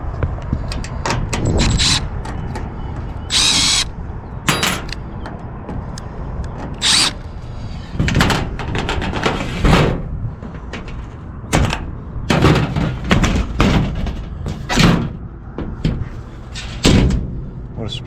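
Access panel doors on a newer Carrier rooftop HVAC unit being opened and handled, giving repeated loud metallic clunks, bangs and rattles in irregular bursts over steady outdoor rumble, with a person speaking briefly between.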